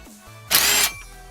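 A power tool spins briefly while removing 12mm bolts on a Yamaha FZ6R motorcycle, one loud, close, steady whirring burst under half a second long.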